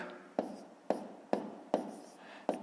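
Pen or pencil writing numbers by hand on paper for a column multiplication problem, five distinct strokes or taps in a steady rhythm, close and fairly quiet, with no talking.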